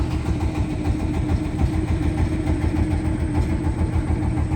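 A travel boat's engine drones steadily with a low rumbling throb on a river beside the Sundarbans, close and fairly loud, with no voices.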